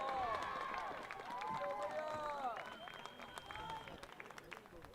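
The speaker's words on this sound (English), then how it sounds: "Denver North cheering on every stop as they know they have the lead back again." Denver North supporters cheer at a girls' varsity high school soccer playoff game, a steady crowd roar with shouts and whistles that fades slightly toward the end while a commentator talks over it.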